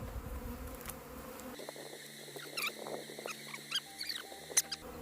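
A honey bee swarm clustered in a tree during a swarm capture buzzes steadily at close range, a dense insect drone with scattered rustles and light taps from nearby handling, and no voices.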